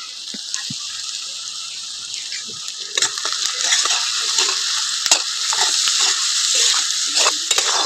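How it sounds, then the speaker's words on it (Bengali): Onions frying in a pan with a pinch of salt, a bright hissing sizzle that swells midway as a spatula stirs, with metallic clinks and scrapes close by and no speech. "পেঁয়াজটা একটু ভালো করে ভেজে নেবো।"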